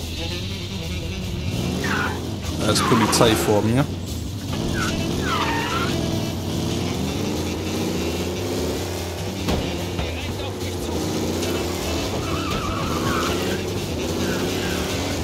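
Car engine hums steadily while driving in Mafia: Definitive Edition, with a brief louder surge early on, running under continuous conversation throughout.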